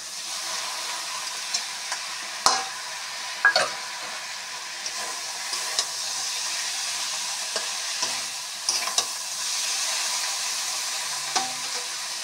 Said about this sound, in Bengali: সব মশলাগুলো ভাজা হয়ে গেছে, তেল ছেড়ে ছেড়ে আসছে। এখন দিয়ে দিচ্ছি এই যে মাছগুলো।